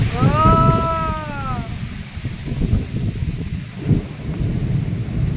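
Thunder rumbles low and heavy through a storm, with gusting wind, rustling swaying trees and rain, loud and near. A voice speaks over the storm early on.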